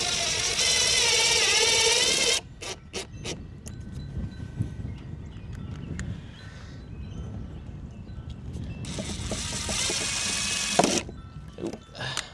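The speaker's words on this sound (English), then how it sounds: "And then I'm just using a couple treated screws to screw it in." A power drill drives treated screws while an outside faucet is replaced, with two loud sustained whirring runs at the start and end and clattering handling knocks and taps between them.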